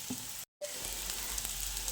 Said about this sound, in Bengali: আলুগুলো দিয়ে একটু ভেজে নিচ্ছি।